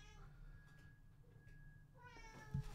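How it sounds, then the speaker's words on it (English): A house cat keeps meowing at a closed door, with faint drawn-out cries through the quiet room and a louder bump near the end. "She's just going to keep meowing until I open the door."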